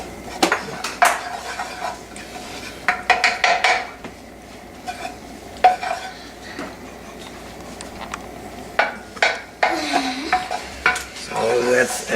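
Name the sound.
ghee being added and heated in a pan for jeera rice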